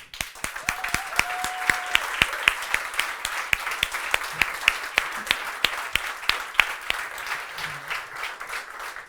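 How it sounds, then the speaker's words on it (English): An audience at a startup demo day applauds, a continuous bed of clapping with distinct sharp claps close by throughout, tapering slightly toward the end. "So a round of applause for persistence."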